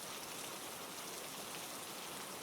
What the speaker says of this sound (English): The rain continued its patient work against the glass.